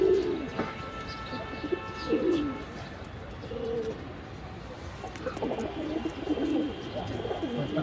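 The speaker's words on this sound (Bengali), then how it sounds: "কবুতরগুলো দেখাচ্ছি, নতুন কালেকশন তাই দেখাচ্ছি।" Pigeons of a newly collected flock cooing at close range, several soft repeated coos rising and falling over a quiet loft background.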